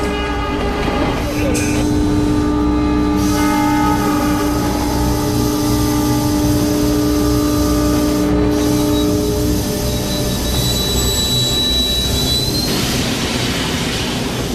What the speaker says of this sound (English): The ACD automatically stopped the train.